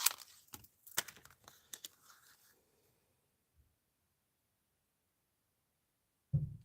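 Bronze paper butterfly body being cut out with scissors at a craft table: quick, close snips and paper crinkling in a busy burst that dies away into near silence, then a single louder knock at the end.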